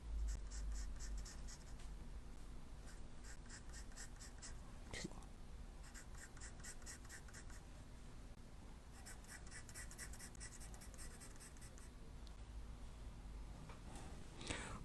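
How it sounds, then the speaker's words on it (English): Pencil sketching shading onto paper for a landscape drawing: steady, close scratchy strokes in repeated bursts, with faint room hum and no talking. "So on the left side of the stake, you can sketch in a shadow."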